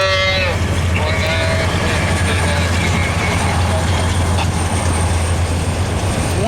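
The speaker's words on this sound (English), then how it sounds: "Looks like an auto-rack train. Wow, 3 engines." A freight train of auto-rack cars pulled by three SD40-3 locomotives rumbles past in falling snow in sub-zero cold, its loud, steady low roar and whining wheel squeal filling the air.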